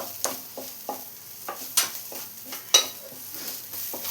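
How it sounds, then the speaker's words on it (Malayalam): Crushed ginger and garlic are sautéed in a pan, a spoon scraping in steady strokes about twice a second over a soft sizzle, close and moderately quiet. "ഇത് റോസ് സ്മെല്ല് മാറുന്ന വരെ ഒന്ന് വഴറ്റിയെടുക്കാം"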